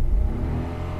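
A car engine with its ECU set to rally mode revs up briefly, a loud close rumble that swells in the first moment and then settles into a steady drone, with no talking.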